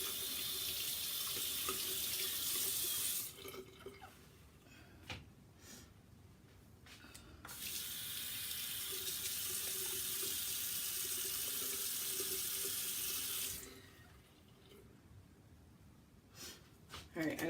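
Tap water runs loudly into a sink as makeup brushes are washed, flowing steadily for a few seconds, stopping, then returning for a long stretch before cutting off again, with quieter handling noises and talk in the gaps.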